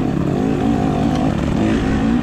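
A 4-stroke dirt bike thumper passes during a hare scramble race, a loud, steady, close engine drone with a deep pulsing low end throughout, no talking.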